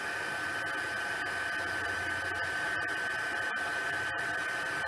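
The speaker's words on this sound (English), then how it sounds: "I will bring in my heat tool and we will emboss those little dots." A heat tool blows steadily while embossing small dots in a card-making setting. The hiss and whir is continuous and fairly quiet, with no talking.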